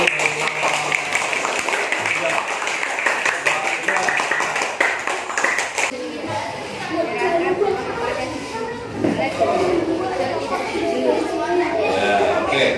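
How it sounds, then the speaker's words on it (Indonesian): Students in a classroom clapping after a group presentation, a dense burst of hand claps in the first half that gives way to lively chatter and scattered voices. "Oke, tepuk tangan dulu."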